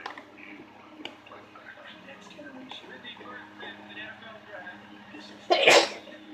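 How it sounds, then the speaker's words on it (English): One sharp, loud sneeze erupts near the end from a person handling slime, after a stretch of quiet squishing and clicking sounds. "Why am I saying sorry for sneezing?"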